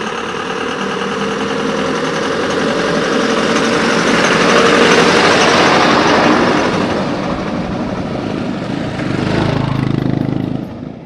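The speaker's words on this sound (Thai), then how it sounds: "โซล่าก็รถจักรที่เขาเจ้านำมาขับขี่ทีนี้โซล่าเป็นรถเวียดนาม" A Vietnamese Solar motorcycle runs in rural southern Laos, its engine a steady, fairly loud drone that swells in the middle and eases off toward the end.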